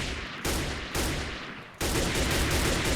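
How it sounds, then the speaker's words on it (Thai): Rapid M4 rifle gunfire in a video game: dense, loud, continuous automatic bursts, with brief dips near the half-second and around the two-second mark before the firing resumes at full force. "ไม่ต้องถึงมินิกันเลยนี่ฮะเอา M4 ยิงก็หัวแตกแล้ว"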